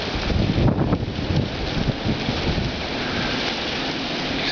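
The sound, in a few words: strong wind during a snow blizzard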